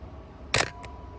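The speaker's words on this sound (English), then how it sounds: "the F-1 shutter mechanism sounds good" A Canon F-1n film camera's shutter fires once, a sharp close mechanical snap followed by a fainter second click, alone in a quiet room.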